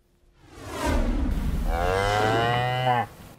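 A cow on a Montana cattle ranch gives one long, loud, close moo that rises and holds for about two seconds before cutting off, with no talking.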